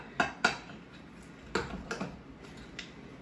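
Gluten-free banana nut muffin batter being mixed in a bowl, heard as a few sharp utensil clinks and taps against the dish, spaced irregularly and fairly close, with quiet scraping between them and no talk.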